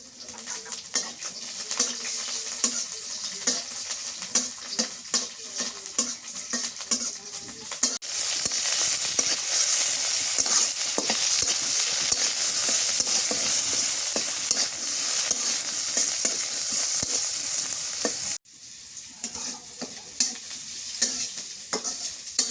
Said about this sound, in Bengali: ভাজা হয়ে গেছে মরিচ, পেঁয়াজ, রসুন, এখন এগুলো নামাই নিই।